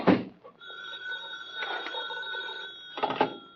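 A telephone rings with a bright, sustained electronic tone, following a thump and ringing on with a rattle of movement underneath.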